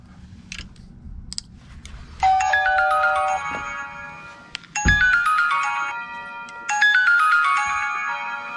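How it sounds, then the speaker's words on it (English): A Dahua video doorbell chime plays three times, each a bright multi-tone melody ringing out clearly over a quiet room with some faint handling noise before it. "let's ring the doorbell and see what happens."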